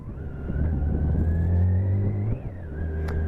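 A steady siren tone rises and wavers faintly over a loud, close engine drone, with no talking.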